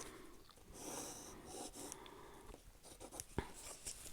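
Faint scratchy pencil strokes tracing around a paper stencil on a tabletop, soft and close with quiet breathing in between and no talking.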